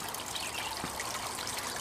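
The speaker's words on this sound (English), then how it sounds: "You'll see a patio stone with the water running onto it" Water trickles steadily onto a patio stone in a small garden water feature at a nature reserve, a continuous close splashing dribble with no voices.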